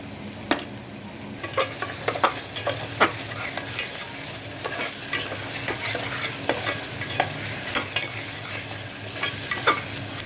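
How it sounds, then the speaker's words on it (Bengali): Onion paste fries in a pan and is stirred, giving a steady sizzle broken by repeated scraping and clacking strokes of a spoon at an uneven pace, heard close with no talking. "কিছুটা পেঁয়াজ আমি ভেজে নিচ্ছি"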